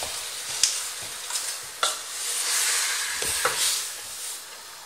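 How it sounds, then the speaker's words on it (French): Lamb meat browning in a spice mixture for Moroccan couscous, a steady close sizzle with scattered scraping clicks as the pan is stirred now and then. "je fais colorer ma viande dans ce mélange en la remuant de temps en temps pendant 5 minutes"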